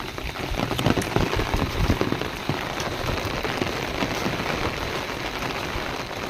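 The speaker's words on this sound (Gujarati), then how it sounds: "તમે વરસાદ ચાલુ થઈ ગયો છે" Rain pours steadily onto a surface nearby, a continuous patter of drops with a few louder splashes, and no one speaking.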